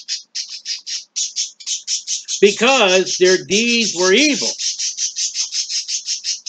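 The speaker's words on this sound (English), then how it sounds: "Oh, the birds are having fun." Birds squawk and call outside in a steady, loud series of short repeated cries, with someone speaking over them partway through.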